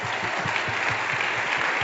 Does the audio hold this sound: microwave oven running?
no